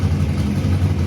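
A 1969 Austin-Healey Sprite race car with a race-built straight-cut gearbox, its engine running with a steady, loud low rumble and slight revving fluctuation.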